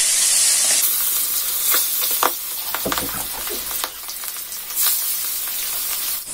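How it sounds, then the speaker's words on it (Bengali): Pangas fish frying in hot oil in a wok gives a loud, steady sizzle with crackling bursts and occasional scraping stirs, and no talk. "তেল গরম হয়ে গেছে, তো মাছ আমি দিয়ে দিলাম ভাজার জন্য।"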